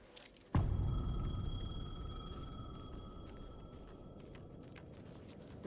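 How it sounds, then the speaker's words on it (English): A payphone in the video game Alan Wake 2 sets off with a sudden loud thump, then a steady tonal ring sustains over a low rumbling drone, slowly fading. "The payphone was ringing"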